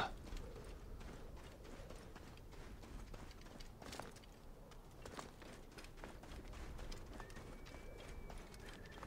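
Horse hooves clop in a quick, steady rhythm in Assassin's Creed Origins. The footfalls stay close and moderately loud, with no talking.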